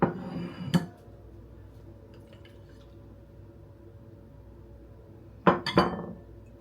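Glass and dishes clink sharply in a kitchen while tomato liquid is strained into a bowl: one clink near the start, then a quick cluster of bright knocks toward the end, with quiet handling noise between.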